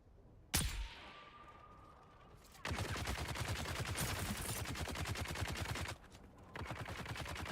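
Gunfire in the Dune Awakening video game: one sharp shot rings out, then after a pause long sustained bursts of rapid automatic fire roar continuously, close and dense, with a brief break before resuming.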